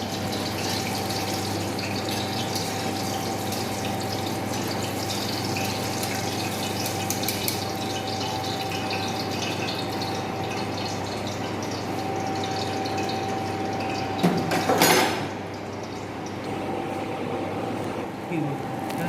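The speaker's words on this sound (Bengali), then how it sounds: "এবার জল ফুটেছে" A pot of water at a rolling boil for cooking rice in a hotel-management kitchen, a continuous bubbling hiss with a steady hum, joined briefly by a clatter near the end while people talk.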